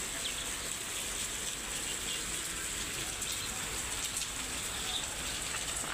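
Steady rain falls outdoors on a cool day, a dense even hiss with faint scattered bird calls in the background.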